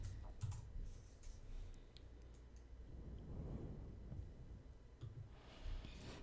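Quick tapping on a computer keyboard while entering a search, a soft, close run of keystrokes with brief pauses, quiet and alone without talk.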